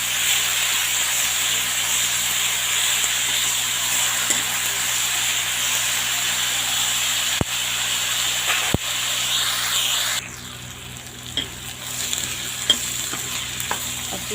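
Sliced onions frying and being stirred in a pan for bhindi sabzi, a steady close sizzle with a few sharp scrapes of a utensil, the sizzle dropping lower near the end.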